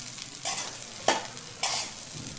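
Schezwan fried rice with ginger and garlic being stir-fried in a pan gives a steady close sizzle broken by a few sharp scraping stirs of the spatula, with no talking.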